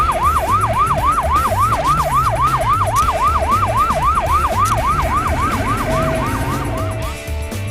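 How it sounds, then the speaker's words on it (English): An ambulance siren in a children's vehicle learning app wails in a steady, rapid rising-and-falling pattern, loud and close, over a low engine rumble, with about twenty repeated whoops before it fades slightly at the end. "Flashing lights next to the sirens are warning other drivers that the ambulance is coming."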